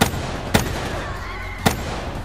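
Two sharp single gunshots in Black Ops 3, spaced about a second apart against a busy game background.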